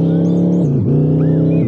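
A car in a video game drives past with a loud, close engine hum. The pitch holds steady, dips sharply as the car goes by, then settles back to a constant drone.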